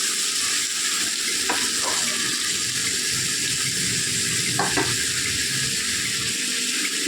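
Carrot and potato fry sizzling in a pan while being stirred, a constant frying hiss with a few scraping clicks of the spoon against the pan.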